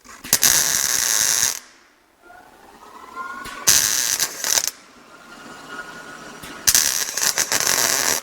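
A welder makes test welds on a 1957 Chevy car body during metal repair, giving three loud, close bursts of harsh crackling separated by quiet gaps.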